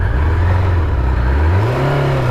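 Honda CB750 Nighthawk four-carburetor motorcycle engine warming up, a loud, close, steady idle that rises into a rev near the end.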